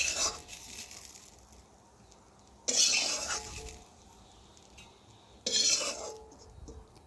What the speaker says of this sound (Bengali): আমি আলুগুলো এখন তুলে নিলাম।